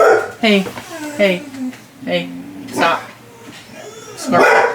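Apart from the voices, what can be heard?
dog barking at the garbage man outside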